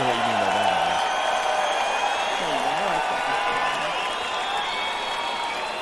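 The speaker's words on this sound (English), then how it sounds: "I'm playing like an audience clapping sound effect" Recorded audience clapping and cheering plays as a sound effect, a steady wash of crowd applause lasting throughout, with a voice talking over it near the start and middle.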